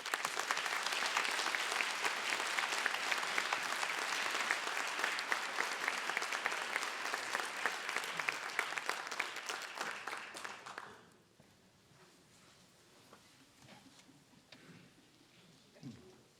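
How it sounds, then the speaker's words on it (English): A morning audience at a language-teaching association event gives the guest speaker a big round of applause, loud sustained clapping that fades out after about eleven seconds and gives way to a quiet room. "let's have a big round of applause and welcome to our special guest this morning"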